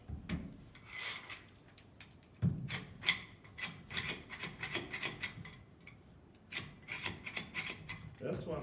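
Repeated back-and-forth scraping of excess glue off a wooden cutting board, rough rasping strokes in bursts with short pauses, close and moderately loud, with someone talking intermittently.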